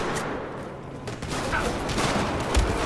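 Rifle fire rattles steadily in the shooter game Battlefield, a continuous dense burst of shots mixed with game noise and a heavier thump near the end.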